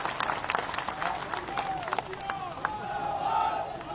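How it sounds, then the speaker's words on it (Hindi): A crowd at an outdoor election rally for Jyotiraditya Scindia, addressed by the Chief Minister, claps and cheers in a dense, steady wash of applause, with a voice carrying faintly over it throughout. "एक बार जोरदार ताली बजाओ तो हमारे सिंधिया जी के लिए।"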